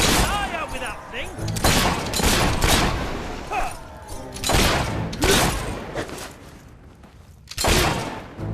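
Repeated loud gun blasts in a Fable 3 battle, several heavy shots arriving in quick succession amid clashing combat noise while voices talk in between.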